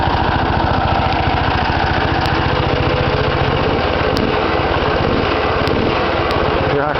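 A home-built mini dozer's small engine running steadily with a little muffler fitted, a close, loud, even buzzing putter with a rapid regular pulse throughout, no pauses or changes.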